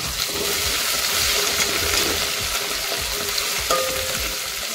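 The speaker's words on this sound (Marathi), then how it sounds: "आता याच्यामध्ये घालते 1 चमचा जिरे, अगदी पटकन ही फोडणी देऊन होते" Cumin seeds sizzle in hot oil for jeera rice tempering while being stirred, a steady close frying crackle with soft scraping stir strokes and a brief clink near the end.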